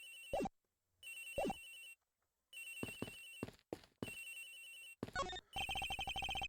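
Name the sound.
phone ringing in the video game Ace Attorney Investigations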